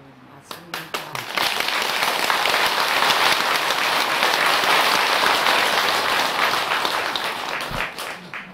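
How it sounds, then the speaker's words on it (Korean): Audience applause at a Buddhist dharma talk during a memorial ritual at a temple, rising quickly after a few scattered claps into steady clapping from a large crowd that holds for several seconds, then thins into a few final claps. "딱 시간 되면 끝내라고 박수치시니까"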